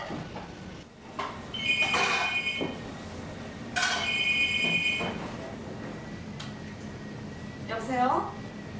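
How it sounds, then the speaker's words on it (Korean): A telephone rings late at night around closing time at a restaurant, two bursts of electronic ringing about two seconds apart over a low background hum, followed by a brief chirp. "밤늦게 걸려온 전화 한 통"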